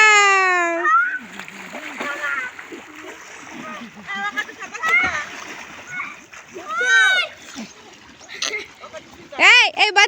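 Children bathing and swimming in a river, splashing water in irregular bursts close by, with kids' voices and shouts rising over the splashes throughout.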